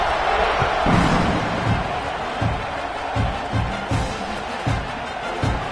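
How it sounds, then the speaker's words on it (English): A stadium crowd at a college football game buzzes steadily after a score, a dense continuous roar with scattered louder swells and claps, loud and close throughout. "this crowd is buzzing after that last score"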